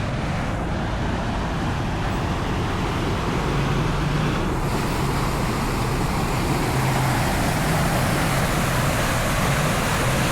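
Floodlike rushing water near a bypass road twin tunnel portal, a steady dense roar of flowing water with no break, close and constant throughout, without voices.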